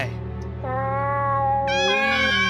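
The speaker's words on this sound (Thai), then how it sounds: "เสียงแมวร้อง" Cat meows sound in a horror adventure game set in a haunted gallery, several drawn-out rising cries layered over a steady low game drone, close and fairly loud.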